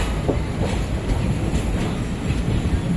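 Steady rolling rumble and faint wheel clatter from inside an ICF coach as the train runs along and crosses over to another track, a continuous moderate drone.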